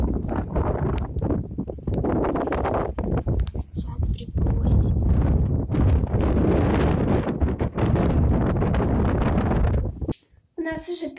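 Strong wind roars and buffets the microphone in a loud, constant rush, briefly dropping away near the end.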